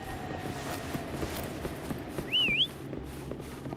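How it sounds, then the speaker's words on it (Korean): A single short whistle rings out once to call the mount Paum in the Wuthering Waves video game, a brief wavering tone over quiet footsteps and ambient game sound. "휘파람으로 파움을 불러보시겠어요?"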